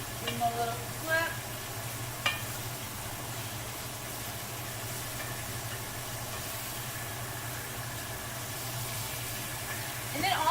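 Beef pieces brown in a hot pan, a low steady sizzle with a few clinks as they are flipped, while a person talks over it.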